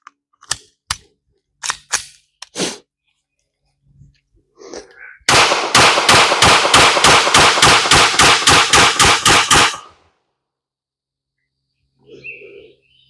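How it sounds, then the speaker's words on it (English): Glock 23 pistol fired rapidly at a shooting range: a few scattered single shots first, then a fast even string of about fifteen loud, sharp reports, followed by quiet and faint birdsong. "going to rapid fire those on that target."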